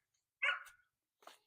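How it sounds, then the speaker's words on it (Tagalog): A dog at a home gives two short barks close by: one sharp, louder yap followed a moment later by a softer second bark, with silence around them. "So ingay ang aso dito,"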